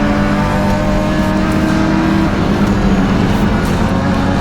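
BMW race cars charge into turn 1 on a racing circuit, engines roaring loud and continuous with revving and overlapping passes at close range.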